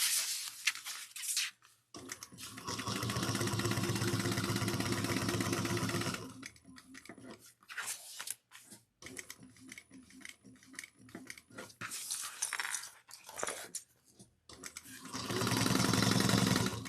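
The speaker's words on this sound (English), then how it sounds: "we're going to top stitch the pocket down at 1/8 of an inch all the way around" A sewing machine runs in a long continuous burst as it top stitches a bag pocket 1/8 inch from the edge, pauses with scattered handling clicks, then starts up again near the end.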